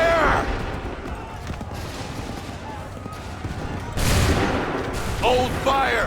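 Musket volleys crack out on an Assassin's Creed III battlefield, a heavy ragged fusillade followed by another burst of shots, while commanders' voices shout orders over the gunfire.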